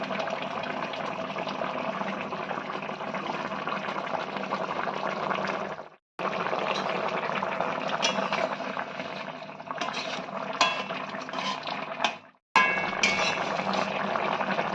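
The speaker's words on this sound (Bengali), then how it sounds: "বড়ি এবং মাছ দেওয়ার পরে আরো 10-15 মিনিট ভালো করে ফুটিয়ে নিতে হবে।" Fish curry with bori, lentil dumplings, simmering in a pot, giving a steady close bubbling and stirring noise that runs throughout, with two brief gaps of near silence.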